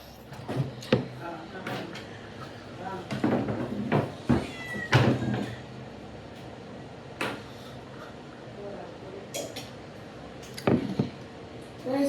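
A cat meows in short repeated calls close by. Knocks and bumps come between the calls, and people talk in between.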